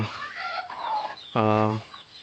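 A native country hen gives a loud, drawn-out cluck-squawk close by, following a few softer murmuring calls, with light background noise.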